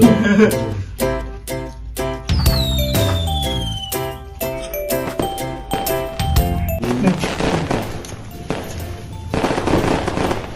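Rapid cracks and bangs of New Year's Eve fireworks burst continuously, with whistling rockets rising and popping crackle thickening toward the end.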